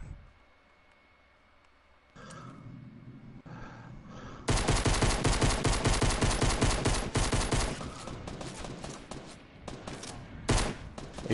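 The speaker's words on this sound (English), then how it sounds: "I'm being shot at." Gunfire in the video game Fortnite: faint scattered shots at first, then a dense, loud stretch of rapid automatic fire with overlapping bursts and occasional sharp single cracks toward the end.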